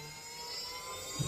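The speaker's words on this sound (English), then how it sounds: "then throttle down, the engine start to ignition." A Swiwin model jet turbine engine spools with a steady high whine and broadband roar, a brief low thump near the end as it reaches ignition.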